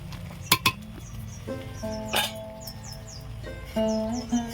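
Raw mango pieces are stirred in sugar syrup in a pan for sweet-sour-spicy pickle, with sharp metallic clinks of the spoon against the pan and bird chirps in the background.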